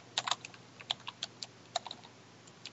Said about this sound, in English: So let's just type Janelle,